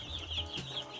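Baby chicks that have just been brought home give a rapid series of thin, high peeps close by, with soft background noise and no talking.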